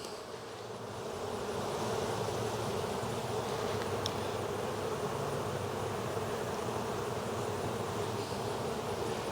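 Honeybees hum in a dense, steady drone during a September beehive inspection, a continuous close buzz that stays even throughout with no talking.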